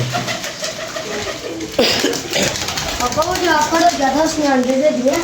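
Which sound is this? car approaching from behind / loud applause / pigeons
pigeons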